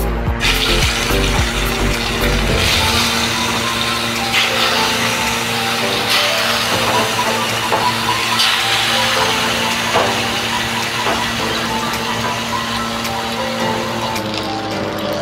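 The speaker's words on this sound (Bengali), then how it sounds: "আমার তেল গরম হয়ে গেছে, এবারে আমি মাছগুলো ভেজে নেব।" Pieces of katla fish fry in hot oil, giving a loud, steady hiss and crackle that continues without a break and with no talking.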